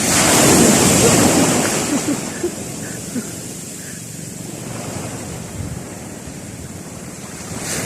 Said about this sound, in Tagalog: Laki po ng alon.